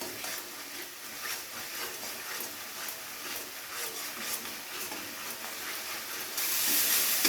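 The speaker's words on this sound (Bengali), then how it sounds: "পেঁয়াজটাকে খুব ভালো করে তেলের মধ্যে নাড়াচাড়া করে ভেজে নিতে হবে" Onions frying in oil and being stirred for a Bengali rui fish kalia, a steady close hiss and sizzle running throughout with faint scraping, growing slightly louder near the end.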